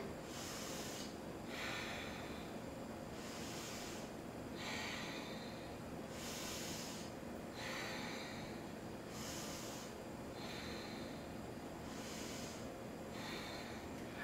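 Deep, slow yoga breaths held in a hip-opening pose, about five even inhale-exhale cycles in a steady rhythm, soft and close with a low background hiss and no talk.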